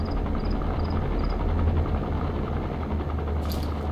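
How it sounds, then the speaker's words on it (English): A patrolling helicopter in the video game Metal Gear Solid V drones steadily with a low rotor hum, fairly faint and constant, with soft high chirps in the background. "Chopper is going to patrol for the security forces."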